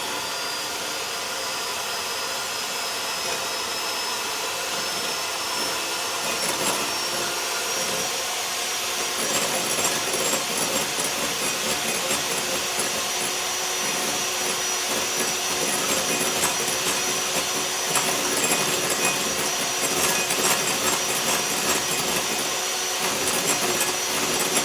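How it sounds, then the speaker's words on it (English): An electric hand mixer whips eggs with a dash of salt for a puffy omelet, a steady loud motorized whir with scraping, rubbing texture running continuously and close throughout. "I have my little hand mixer already on, ready to go"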